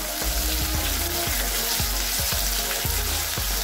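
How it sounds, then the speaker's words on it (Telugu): Onions frying in hot oil in a pan as curry leaves are added, a loud continuous close sizzle with crackling and occasional stirring scrapes, no voices. "ఉల్లిపాయలు కాస్త వేగిన తర్వాత ఇందులోకి కరివేపాకు వేసుకోవాలి."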